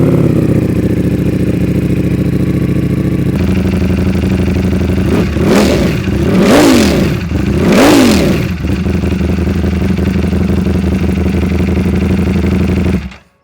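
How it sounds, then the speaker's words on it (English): A Ducati Panigale V4 motorcycle engine cold start: a steady, loud fast idle with two sharp rising-and-falling revs, then a drop back to idle before cutting off. "let's go ahead and give this one a cold start too"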